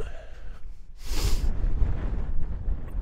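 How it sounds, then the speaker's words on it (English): Wind buffets the microphone in a loud rumbling gust during a midnight walk in Consett, swelling after a quieter start and roaring steadily, with no voices. "It's very windy."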